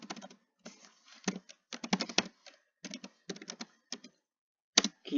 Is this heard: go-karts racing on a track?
no